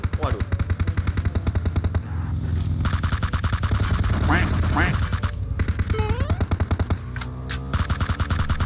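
Sustained automatic weapon spray in PUBG Mobile, a fast, steady rattle of rapid shots running nearly throughout with brief pauses, loud and close, while players chatter over it.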